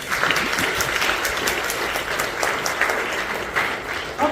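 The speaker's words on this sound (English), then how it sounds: "Give him another round of applause." Sustained clapping from a theater audience at a seniors' talent and fashion show, a dense, even wash of applause that runs loud and unbroken throughout.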